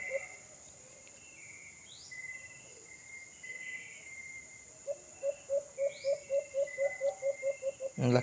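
Outdoor bird calls: a steady run of short, evenly spaced chirps grows clearer toward the end over a faint insect and cricket hiss, with a couple of higher swooping notes earlier and no talking.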